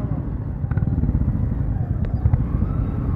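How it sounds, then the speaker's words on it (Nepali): A motorcycle carrying a ride-hailing passenger rattles while riding through jammed traffic, its engine a steady, close, low rumble throughout. "बाइक कस्तो झ्याझ्याएर आइरहेको क्या हो"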